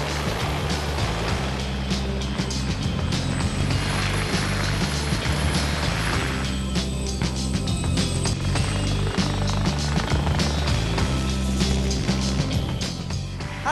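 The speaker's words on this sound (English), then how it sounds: "Helicopters everywhere." Helicopters flying in to land at Silverstone for Formula 1 make a steady, loud rotor and engine drone that continues throughout, with the beating of the blades close and dominant.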